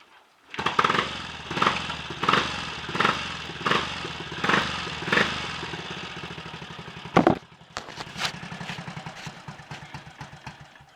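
A Triumph Tiger Cub trials motorcycle engine runs nearby, rhythmically revving and falling back several times before a sharp bang and a steady, lumpy idle.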